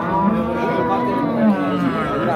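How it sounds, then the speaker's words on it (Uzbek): A pregnant dairy cow of the Swiss breed, six months in calf, moos loudly and steadily at the Kitob livestock market, a long sustained low bellow held close by against a busy background. "Mana sigirimiz navbatdagi. 6 oylik bo'g'oz deyaptilar."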